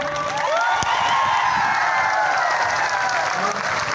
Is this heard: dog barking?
no